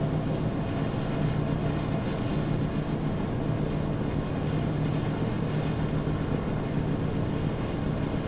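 Ship engines in the NAUTIS ship simulator game run with a constant, dense low rumble mixed with wind-like wash, steady throughout without any talking.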